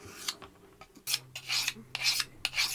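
A knife blade stroked along a sharpening stone at a steady bevel gives a series of dry, rasping scrapes, about half a dozen close strokes in an uneven rhythm, with no talking.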